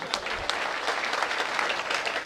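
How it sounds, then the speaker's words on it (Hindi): Loud audience applause during a Hindi comedy stand-up act, many hands clapping densely and steadily for a couple of seconds with a faint murmur of the crowd. "तालियां जोरदार बजना चाहिए।"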